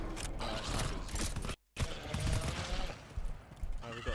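Burst-fire weapon shots in the co-op shooter GTFO, a loud, dense rattle of gunfire with mechanical clanks that runs nearly throughout, cut by a brief gap of silence partway through.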